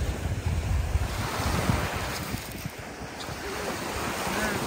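Choppy waves on a lake at a Camp Morton cabin getaway wash steadily against the shore, with gusting wind buffeting the microphone throughout.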